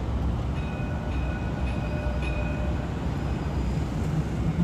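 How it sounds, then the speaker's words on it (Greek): A metro train pulls in at a station in Dubai, giving a steady, loud rumble of wheels and motors with faint high tonal whines over it, and no talking. "Να και το μετρό."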